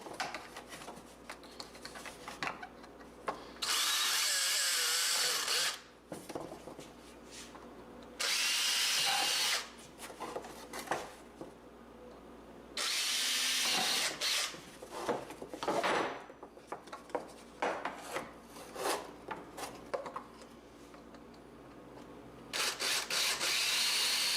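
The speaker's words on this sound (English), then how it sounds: "You need to drill that with a 3/16 drill bit from the back side." A power drill with a 3/16 bit whirs in several loud bursts of a few seconds each, drilling holes while installing a Polaris Ranger cab heater, with handling clatter and rubbing in between.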